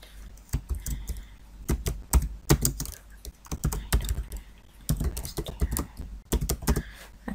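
Computer keyboard keys typed in quick irregular bursts while entering text with the type tool in Adobe Illustrator, crisp close clicks with short pauses between runs, no talking.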